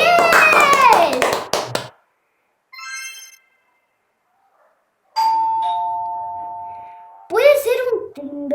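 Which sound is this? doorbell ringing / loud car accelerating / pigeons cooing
doorbell ringing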